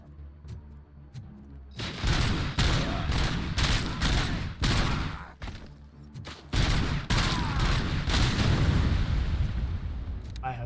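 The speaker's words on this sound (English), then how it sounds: "I had nothing to do with that explosion." Gunfire and explosions from the game Robocop: Rogue City erupt in heavy, irregular bursts of loud sharp shots with booming blasts, broken by brief lulls.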